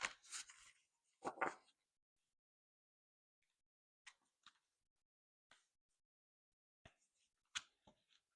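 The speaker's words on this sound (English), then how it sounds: "Sorry for the shuffling noise." Cards riffle and flutter in a couple of quick bursts at the start, followed by scattered soft taps and flicks separated by quiet gaps.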